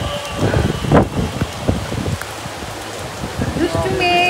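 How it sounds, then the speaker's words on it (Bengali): Heavy rain pours down outdoors, a dense hiss of drops with gusts of wind buffeting the microphone, while voices talk and exclaim over the downpour. "জোরে বৃষ্টি নামছে"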